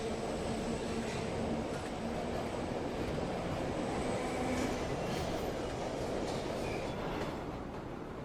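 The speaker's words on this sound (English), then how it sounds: "the actual sounds of the subway along with the strings and the background music" A subway train rumbles and rattles steadily throughout, its continuous roar and faint high squeals blended with strings and background music in a layered mix.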